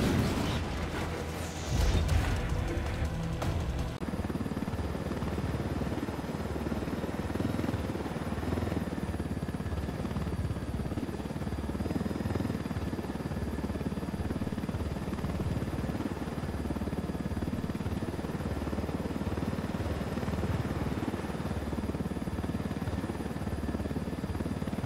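A steady, droning aircraft rumble from Ghost Recon Wildlands holds at moderate level for over twenty seconds, after a brief burst of louder clatter at the start, with no talk over it.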